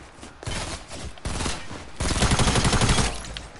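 An assault rifle fires in Fortnite in rapid, close bursts. A short volley is followed by a longer sustained string of shots, loud and dominant, with no talking.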